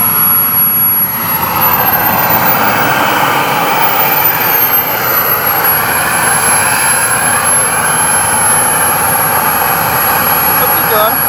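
An HSD Super Viper turbine jet model aircraft in flight at a model airfield, a loud continuous whine and roar with a rising and falling high pitch as it passes.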